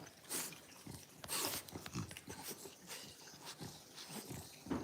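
A pet dog chews and gnaws on something close by, with irregular wet crunching bites and snuffling breaths throughout and no talk.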